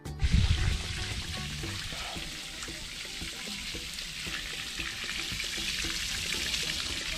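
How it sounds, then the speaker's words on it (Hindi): Water flows naturally out of an artesian well at Mainpat in Chhattisgarh with no motor or pump, a steady close splashing and trickling rush that stays even throughout. "ऑटोमेटिक ये पानी यहाँ से बहता है, उद्गम होता है और यहीं से बह के ये इस तरफ जाती है।"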